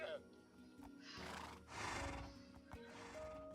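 Minecraft horses whinnying and neighing, with a few hoof clops, moderately close amid game background, while a person talks over them.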